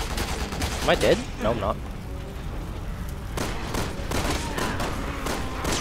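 Enemy gunfire in Resident Evil 6, from Leon's campaign, crackles in loud bursts amid booming game effects, with someone speaking briefly over the shooting.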